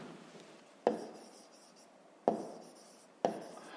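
Pen writing on paper during a maths exercise, heard as close, faint scratchy strokes, with three sharper taps where the pen meets the page followed by soft trailing scribbles.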